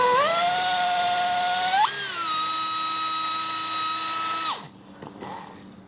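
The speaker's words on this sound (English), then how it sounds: "I've got a drill here that with a 90-degree extension I can just put on, put that in the guitar body there" A power drill fitted with a 90-degree extension drills across a guitar body: a close, clear motor whine steps up in pitch once, holds steady, then winds down and stops, leaving near silence.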